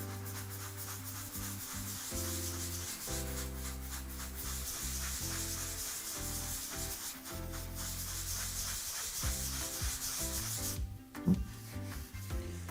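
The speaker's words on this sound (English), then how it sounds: "The more drywall that you have, the more sanding will be needed." Steady abrasive rubbing of sanding drywall, continuous and close, with a sharp knock near the end.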